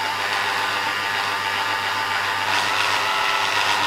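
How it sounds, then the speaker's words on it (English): An electric drill buzzes steadily while turning an Istabreeze wind turbine generator against resistance on a bench, a close, continuous motor hum and whine that swells slightly toward the end, with no talking. "You can hear the drill buzzing away."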